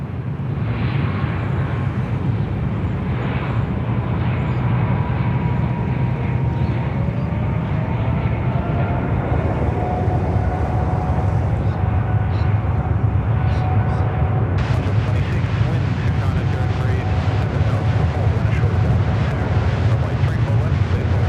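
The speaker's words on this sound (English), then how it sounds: "Singapore 212, runway 34 left, clear to takeoff." A Singapore Airlines airliner, flight 212, takes off from Sydney Airport runway 34 left, producing a loud, steady engine roar that builds into a broad rumbling thrust with a rising whine partway through.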